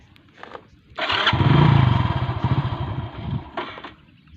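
A motorcycle engine cranks and catches, roaring up loudly for a few seconds with a rapid putter before settling, close and alone.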